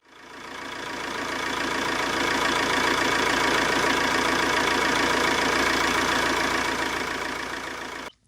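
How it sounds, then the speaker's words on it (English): Fiat 1.9 JTD diesel engine starting and idling after a return manifold leak fix, a loud steady clattering rumble that runs evenly for several seconds before cutting off abruptly. "I turned the engine on and made sure it wasn't leaking from anywhere."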